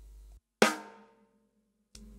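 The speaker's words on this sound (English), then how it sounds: "it's the sound of the stick striking the rim and the center of the drum at the same time" A single drum rimshot, the stick striking the rim and the drum's center together: one loud, sharp crack with a ringing, resonant tail that fades over about half a second, set between short silences.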